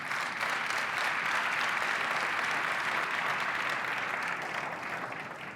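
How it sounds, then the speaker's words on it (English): Sustained applause from a large audience at a cloud and AI technology keynote, a broad even wash of clapping heard from within the hall, fading slightly toward the end. "let's give a round of applause truly for Jeremy."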